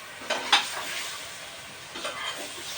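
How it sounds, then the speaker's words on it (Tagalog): Chicken is stirred in a pan for tinola, giving a bright sizzling hiss broken by a few sharp scraping clacks of the spoon against the metal, close and with no talking. "Haluin."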